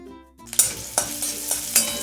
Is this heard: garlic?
yes